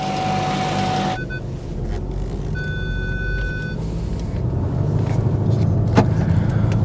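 A tractor hilling potato rows in a field, pushing soil up onto the ridges near the headland, gives a steady, fairly loud engine drone with a brief higher whine near the start and no voices.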